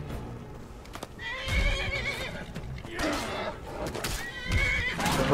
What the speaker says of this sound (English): Horse on horse violence